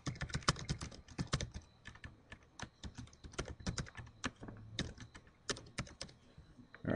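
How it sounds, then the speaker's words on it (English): Typing an address on a computer keyboard: a steady run of quick, close, crisp key clicks in irregular bursts, with no talking. "I'm just going to type in an address right here."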